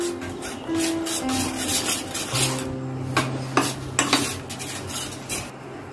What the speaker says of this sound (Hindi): इसको हम अच्छी तरह से मिलाएंगे ताकि इसमें गुठलियाँ नहीं पड़े।